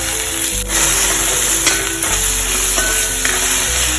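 Onion, chili and tomato fry in hot ghee in a pan, giving a loud, steady sizzle with brief stirring scrapes and a short dip partway through.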